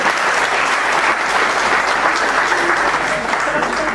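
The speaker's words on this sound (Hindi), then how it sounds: "एक बार मनु के लिए आप तालियां बजा सकते हैं।" An audience claps loudly and continuously for Manu at a gathering, a thick, unbroken wash of many hands at close range, with some crowd noise mixed in.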